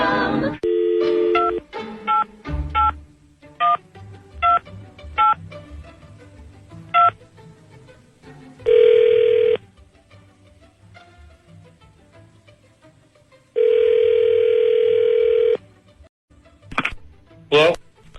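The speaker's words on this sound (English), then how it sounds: "Dialing at random." DTMF keypad tones of a telephone number being dialed, a quick run of about a dozen short beeps followed by two long steady tones, with faint background noise between them.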